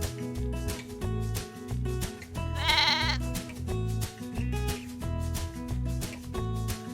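A sheep bleats once in a short vibrato call over steady, rhythmic children's music playing throughout, heard in a farm-animal sounds sequence.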